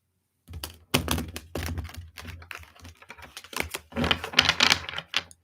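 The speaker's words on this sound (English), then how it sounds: "One more shuffle." Tarot cards being shuffled by hand, a run of dry riffling clicks and soft slaps in quick bursts, close and clear with no talking.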